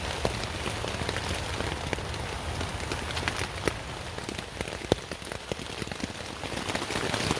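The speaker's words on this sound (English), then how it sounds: "The rain is so heavy." Heavy rain pours onto a tent in deep woods at night, a dense continuous hiss with scattered sharper drops tapping close against the fabric, steady throughout with no voices.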